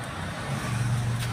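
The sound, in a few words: Bajaj Pulsar motorcycle engine running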